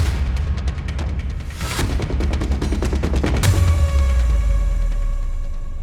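NASA's Artemis 1 rocket lifts off in a loud, continuous roar with dense crackling bursts, growing into a deep rumble that holds steady and close for several seconds, with no voices.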